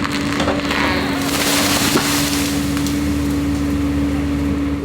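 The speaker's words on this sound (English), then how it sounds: "I eventually pushed the tree over, and thankfully it fell exactly where I had planned." A large tree is pushed over by an excavator and falls, its wood cracking and splintering in a loud, sustained crunching rush over a steady engine drone.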